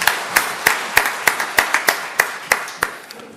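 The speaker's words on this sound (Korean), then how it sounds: "하나님께 영광의 박수를 보내겠습니다" Clapping in a church congregation, heard as a rhythmic series of sharp, evenly spaced claps, about twelve in unison at a steady beat, fading slightly toward the end.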